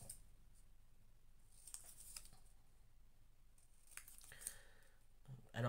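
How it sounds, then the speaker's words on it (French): Scissors cutting scrapbooking paper: faint, soft snipping and rustling with a few slightly louder crisp cuts spread irregularly over a quiet, close-up background. "Donc on va découper tout ça."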